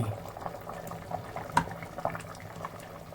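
Quail curry simmering in a pot, giving a soft, steady bubbling with occasional louder pops, fairly quiet and close.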